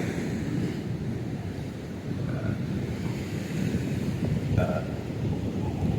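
Rough ocean surf pounding a beach at Kanyakumari, a steady roar of breaking waves mixed with heavy wind buffeting the microphone, loud and continuous with no talk.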